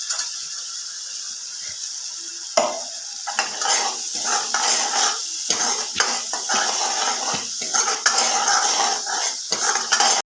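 Boiled black beans being stirred into masala in a pan for a Maharashtrian bean curry, with steady close scraping and clinking of a spoon against the pan over a faint sizzle, repeated strokes throughout.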